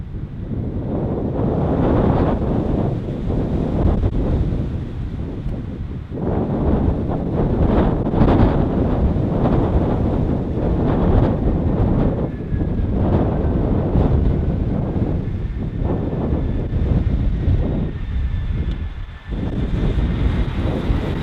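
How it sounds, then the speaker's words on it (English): Strong gusting wind from Storm Barra roars across the microphone at Bristol Airport, surging and easing in heavy buffets, with a faint whine of a distant aircraft beneath. "the surface wind 160 degrees, 24, gusting 34 knots"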